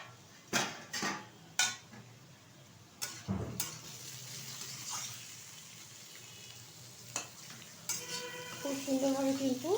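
Beetroot, potato and carrot fry together in a pan, with a soft sizzle under repeated sharp scraping and clattering of a spatula stirring against the pan, close and fairly loud.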